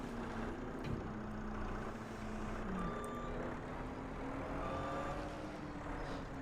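Steady reversing beeps from a Bobcat skid steer in Farming Simulator 25, repeating over a constant low engine drone, fairly faint and even throughout, with no talking.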